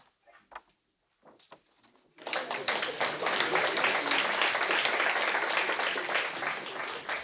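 Applause at a French dictation contest event breaks out after a quiet pause, a dense steady wash of many hands clapping that fills the room and holds loud to the end, preceded by a few faint scattered sounds.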